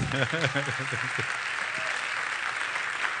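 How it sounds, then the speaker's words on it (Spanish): Audience at an economics conference applauding steadily throughout, with someone speaking over the first second and a half before the clapping continues alone. "Denle un aplauso fuerte y de pie."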